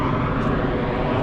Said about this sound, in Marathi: परत एक विमान आलं.